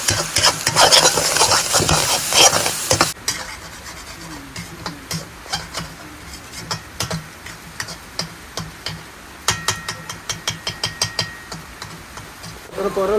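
Egg curry with coriander being stirred in a pan: a burst of loud sizzling, then a run of quick, sharp spoon taps and scrapes against the pan, close and distinct over a quieter sizzle.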